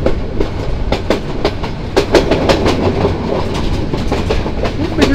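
Rolling slowly through tea gardens near Sreemangal on a broad curve, a train gives out a close, loud rumble punctuated by regular, sharp clickety-clack beats from wheels crossing rail joints.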